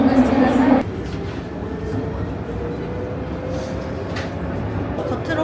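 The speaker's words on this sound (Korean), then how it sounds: "겉으로 가는 트램인 줄 알았는데 지하로 가는 트램이에요." Interior of an underground tram in Nice riding along, a steady, moderately loud rumbling hum with faint squeals; a burst of nearby talk opens it before the running noise continues alone.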